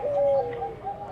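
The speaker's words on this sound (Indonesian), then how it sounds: "khusus menernakan burung-burung kelangenan, yaitu burung perkutut, berkuku, juga burung puter pelung." At a bird farm raising zebra doves, spotted doves and puter pelung, one dove gives a close, soft, low cooing phrase that wavers and trails off in a quiet setting.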